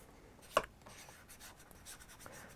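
A bone folder rubs paper down onto a homemade sanding pad with soft, close scratching strokes. One sharper tap comes near the start, and there is no speech.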